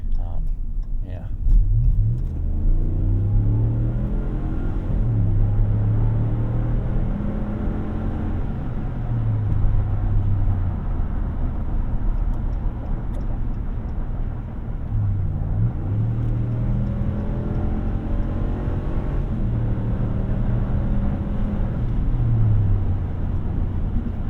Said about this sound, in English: you just cannot beat the sound of a V8